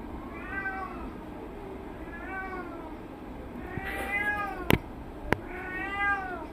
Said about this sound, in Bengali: আমার বাসায় একটা জ্যামি আছে বিড়াল, ও হচ্ছে কান্নাকাটি করতেছে, আও করতেছে, বাইরে যাবে।